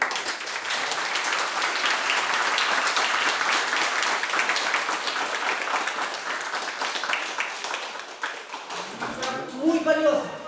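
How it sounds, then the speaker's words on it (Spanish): Audience applause after a theatre performance on tour in Caquetá, Colombia, a dense, sustained round of clapping that thins out toward the end as a few louder individual claps and voices come through. "Viviana González, quiero que le demos un aplauso nuevamente."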